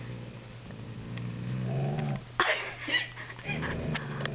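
A German Shepherd growls at her own reflection in a mirror, a low rumbling growl that builds and breaks into a few sharper snarls, close and fairly quiet, with no talk.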